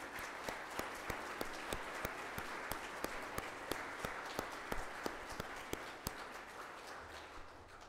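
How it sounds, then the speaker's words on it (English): Sustained applause from a crowd at a high school baccalaureate, a steady wash of many hands clapping with a few sharper claps standing out, gradually thinning toward the end. "let's give them a round of applause"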